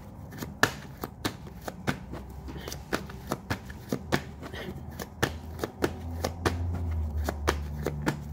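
A deck of tarot cards is shuffled up close in rapid irregular riffles and slaps, each sharp snap clear in a steady run of cuts.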